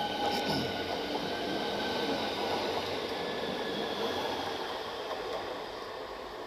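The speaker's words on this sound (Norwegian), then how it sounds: "Her kommer toget." A train rolls past a railway crossing, a steady loud rumble of wheels and carriages filling the whole stretch before easing slightly toward the end, with no voices.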